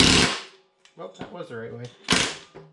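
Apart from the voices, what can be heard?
impact driver with 5/8 socket removing a bolt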